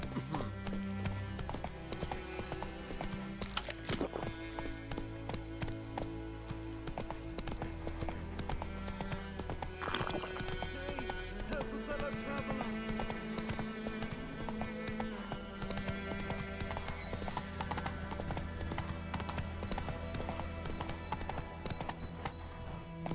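Rhythmic hooves of a horse trotting in The Witcher 3 run continuously, fairly clear, with ambient game music and sound effects in the background.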